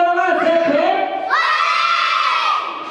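A group of children shout together loudly at a first birthday party game, two sustained rising group yells in quick succession, close and dominant throughout.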